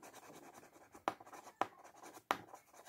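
Pen colouring in flower petals on paper: three quick, sharp scratchy strokes at irregular intervals, quiet and close, over a faint background hiss.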